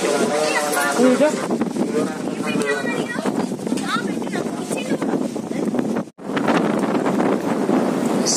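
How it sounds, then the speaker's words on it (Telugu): Strong, gusty wind buffets the microphone at a crowded Lakshmi Narasimha Swamy temple in Erravaram on a Sunday evening, a loud continuous roar with voices of devotees talking underneath and one brief drop-out near the end. "స్వామి సన్నిధానంలో చాలా చాలా విపరీతమైనటువంటి గాలి దుమారం లేస్తూ ఉంది"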